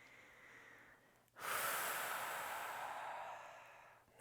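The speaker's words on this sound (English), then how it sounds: "Take your breaths." A single deep breath taken during seated chair yoga breath work, a quiet inhale followed by a long, loud, close exhale that slowly fades, with no talking.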